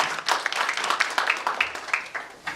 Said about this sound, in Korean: 교수님한테 박수 한번 보내드립니다.